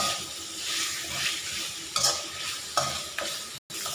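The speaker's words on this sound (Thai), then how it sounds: "พัดไปเรื่อยๆจนสิหอมแล้วก็" Steady sizzling of catfish being stir-fried for a spicy stir-fry in a hot wok, with a few scraping stirs of a utensil cutting through the continuous frying hiss.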